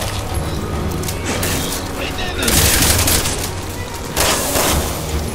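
Dense, loud gunfire from Resident Evil 6 with booming impacts, continuous fusillade-like chaos swelling louder midway and again near the end, while a person talks over the action.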